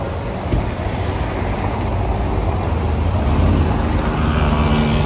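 Steady roar of heavy car traffic circling the Arc de Triomphe in Paris, a dense continuous road noise with engines and tyres blending together, loud and close, with no talking over it.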